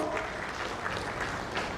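Audience applause at an insurance industry summit and awards ceremony, a steady wash of clapping from a large hall crowd, moderately loud and continuous throughout.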